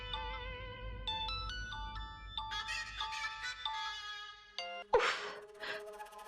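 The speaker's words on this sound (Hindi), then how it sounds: "वरुण का फोन" A melodic electronic phone ringtone plays a sequence of bright tones, followed by a short sharp burst of noise near the end.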